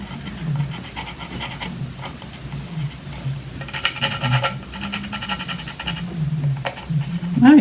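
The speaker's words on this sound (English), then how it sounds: "you can go right in and scrape that out" A pointed tool scrapes dried chalk out of a stencil, giving continuous close gritty rasping and rubbing with brief harder scratches and no talk.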